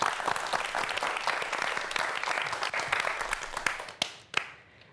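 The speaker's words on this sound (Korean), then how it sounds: "박수 부탁드립니다" An audience at a televised lecture claps in a steady burst of applause that tapers off with a few last scattered claps.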